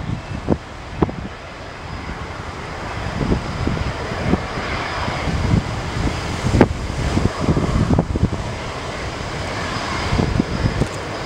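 A KLM Boeing 747-400 takes off from Runway 1R at SFO, a distant broad engine roar with wind buffeting the microphone and scattered thumps of gusts, steady and moderately loud without talk.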